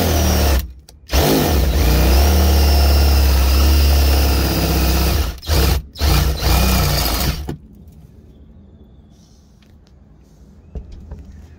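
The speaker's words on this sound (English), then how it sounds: "we're going to use it as a stopper so we don't drill all the way into the cap." A power drill bores into a cap while fitting a tensioner bracket for a trailer air line, a loud steady whine with two brief stops, then it cuts off and leaves quiet room noise.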